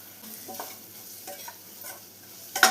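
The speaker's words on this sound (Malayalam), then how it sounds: "ഇതെല്ലാം കൂടെ നന്നായി ഒന്ന് മിക്സ് ചെയ്തെടുക്കണം" Tomato, onion and chili powder stirred together in a frying pan for Kerala dal curry, giving soft scraping and light sizzling strokes close by, with a sharper clatter at the very end.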